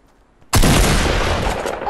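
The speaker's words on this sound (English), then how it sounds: "Oh, he shot me." A sudden loud burst of gunfire in the video game Fortnite, breaking in after a quiet moment and carrying on as a dense, sustained roar of shots and echo.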